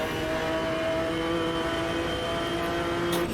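A GT1 race car engine in Automobilista 2 holds a loud, steady high-revving drone with tonal whine lines, close and constant, with a brief upshift-like blip near the end.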